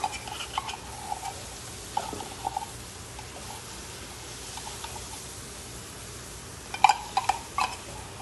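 Condensed milk for seviyan mithai being stirred in a pan, a faint steady sizzle with a few soft scrapes and spoon clinks scattered through, near and quiet, no speech.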